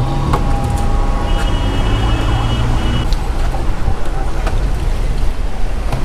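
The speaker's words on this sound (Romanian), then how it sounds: "Ambulanța aia nu știu unde vrea să meargă." A distant ambulance siren holds a thin, steady tone over loud, rumbling street noise and traffic.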